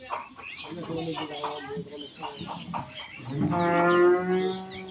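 On a cattle farm, people talk nearby before a Holstein Friesian bull gives a long, loud, deep moo that rises and holds steady.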